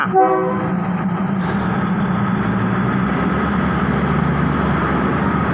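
A Thai train arriving at a station, opening with a brief horn blast, then a loud, steady rumble of rolling wagons and wheels that continues close by without talk.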